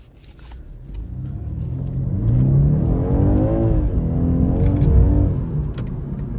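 A stock 2022 BMW M240i engine revs up and holds a loud, rising drone while driving, heard from inside the cabin over steady road rumble, with no talking.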